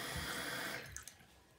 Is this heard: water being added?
yes